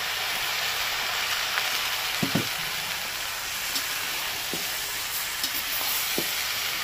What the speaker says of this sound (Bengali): এবার হালকা একটু জল দিয়ে কষাবো।